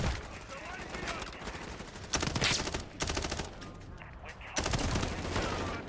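An M4 rifle in a Modern Warfare video game fires in rapid automatic bursts, loud and close, with brief pauses between strings of shots.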